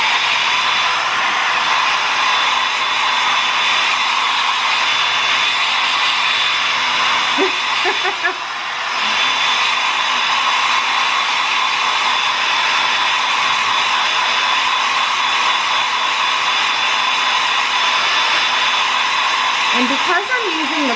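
Hair dryer on its cool setting blowing steadily on a dog's face during grooming, a loud continuous close whir for the whole stretch, with a couple of faint brief sounds over it.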